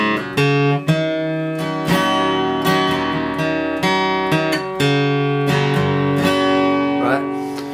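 Acoustic-style guitar playing the intro riff of a song, a series of picked single notes and hammered melodic phrases over ringing chords, close and clear with no talking.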